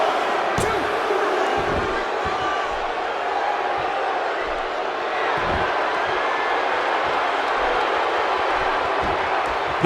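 A wrestling arena crowd in the video game WWE 2K16 roars in a loud, continuous wash of cheering, with low thumps and a commentator talking over it.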